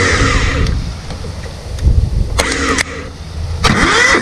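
A riding mower's engine is cranked over by the starter in several short bursts, close and fairly loud, with pauses between attempts.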